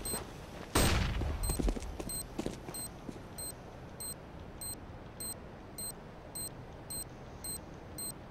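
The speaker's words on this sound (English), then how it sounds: "I'm throwing a flashbang." A flashbang grenade goes off in a competitive tactical shooter: a loud broadband burst near the start, then a steady high-pitched ringing beep that repeats about every half second while it fades under low background noise.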